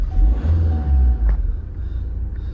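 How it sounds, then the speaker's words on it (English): A Vauxhall Astra GTC 2.0 CDTi BiTurbo diesel catches and settles, with a deep, close rumble that swells briefly and then eases to a steady idle. "just start it up for you"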